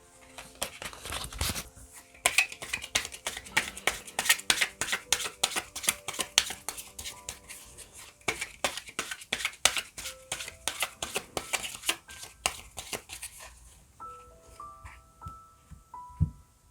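Tarot cards are shuffled by hand in a rapid run of crisp, close riffling flicks for several seconds, followed by a few softer card slides and placements at the end.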